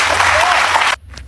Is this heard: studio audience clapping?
yes